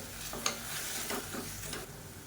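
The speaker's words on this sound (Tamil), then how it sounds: "இது எல்லாத்தையும் நல்லா வதக்கிக்கலாம்." Tomatoes with tamarind and asafoetida sautéing in a pan, a quiet, steady low sizzle with a few soft stirring scrapes and clinks, close by and without speech.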